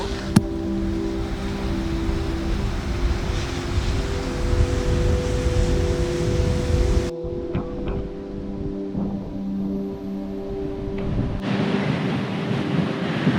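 Steady wind buffets the microphone outdoors, a constant rushing roar that dips briefly and returns, with no voices.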